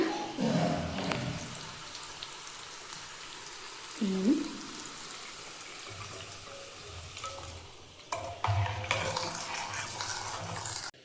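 A fried tempering is tipped into a pot of village-style greens sambar and stirred, with soft sizzling and scraping of a spoon against the pot, several louder clanks near the end.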